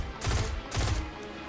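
Automatic weapon fire in the Destiny 2 video game, two quick bursts of rapid shots separated by a short gap, loud and close.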